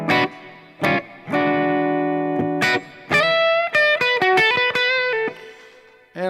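An electric guitar is played through a Tone Master Pro with a lush cloud reverb, giving strummed chords and then a run of single notes, each sustaining and swelling into a wide, washy ambience.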